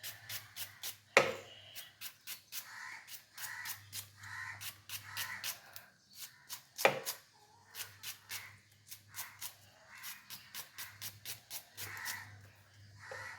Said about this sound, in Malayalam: നമ്മൾ എന്ത് സ്പീഡിൽ അരിഞ്ഞു കയറുന്നു എന്ന് നോക്കിക്കോ